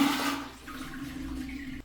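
A toilet flushing with dirty, muddy water: a loud rushing surge at the start that settles into a steadier refilling trickle, heard close up with no talking.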